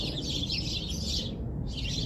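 Continuous high-pitched chirping from several birds, fairly close and steady, briefly pausing before resuming, with no talking.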